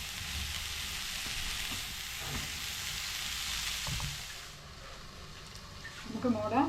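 A banana flower vegetable cutlet mixture fries in a covered pan with a steady, soft, even sizzle that eases slightly toward the end, where a brief voice comes in.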